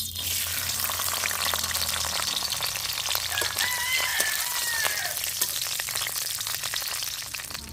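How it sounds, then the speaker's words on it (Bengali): Peanuts fry in hot mustard oil before going into a red amaranth greens dish, with a constant close sizzle and scattered popping crackles. "এই বাদামটা আমি তেলে উঠিয়ে একটু ভেজে একটু থেতো করে দেব তাই আমি প্রথমে বাদামটাকে ভেজে নিচ্ছি"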